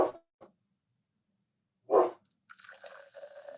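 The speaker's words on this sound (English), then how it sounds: "I don't know if you can hear him barking" A dog barks a few times in short bursts, with quiet gaps between them, followed by some clinking and rustling nearby.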